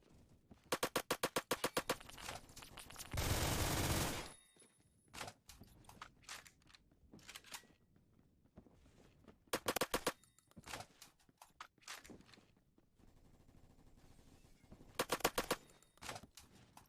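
Bursts of automatic gunfire in Phantom Forces, a Roblox first-person shooter: rapid rattling volleys in several clusters, with a sustained roar of fire near the start and sparser single shots and footsteps between, loud and close.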